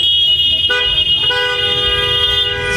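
Car horns honk in a traffic jam on a busy road, several sustained, overlapping blasts sounding close and loud over the rumble of engines.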